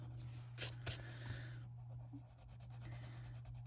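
A white colored pencil rubs and blends across paper in close, soft scratchy strokes, with a few sharper scrapes early on and a steady low hum underneath.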